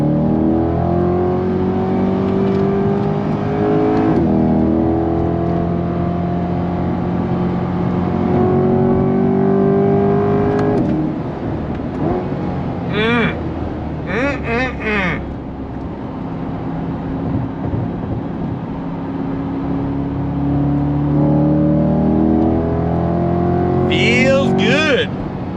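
A Chevrolet C8 Corvette Stingray 70th Anniversary Edition 3LZ pulls hard at full throttle in second gear, its engine note climbing steadily and loud throughout, with brief bursts of voices and excited chatter heard over the roar.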